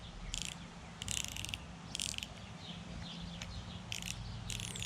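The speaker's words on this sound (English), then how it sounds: "So you're just going to counterclockwise take this drag nut off." Quiet clicking ratchet bursts from the drag nut being unscrewed on a Pflueger President XT spinning reel, several short rattling clicks in irregular spurts over a low background hum.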